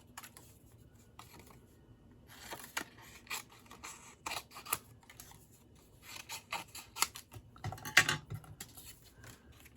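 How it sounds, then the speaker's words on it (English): Scissors snip apart pieces of a handmade stamped paper card in a series of quiet, crisp, irregular cuts, with soft rustling of card between them. "I'm gonna snip these apart so I can send through a couple at a time."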